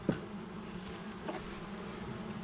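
Honey bees hum steadily around an open Langstroth hive in August, a dense continuous buzz close by with a brief knock at the start and no talking.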